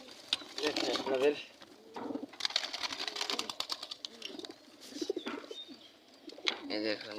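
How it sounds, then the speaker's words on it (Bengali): Pigeons coo repeatedly close by in a rooftop loft, with soft rolling calls overlapping each other, rustling, and someone talking over them. "এই যে কবুতরটা"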